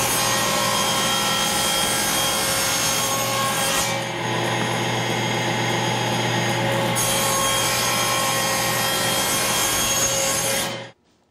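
A hand saw cuts two matched end pieces for a wooden box against a clamped stop block, with steady rasping strokes running continuously and close for about eleven seconds before stopping abruptly.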